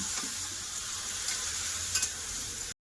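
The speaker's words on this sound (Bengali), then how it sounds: "এবার দিয়ে দেবো দইয়ের মাখানো না মাংস গ্যাসটা কম করে খুব ভালো করে তেলের সাথে কষে নেব" Yogurt-marinated meat fries in oil over a low flame with a steady, close hiss of sizzling. Faint scrapes of stirring sound now and then, and no one speaks.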